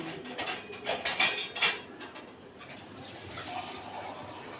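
Clinking metal and dishes in a kitchen, followed by a soft, steady trickle of water being poured into sifted flour, fairly quiet and close.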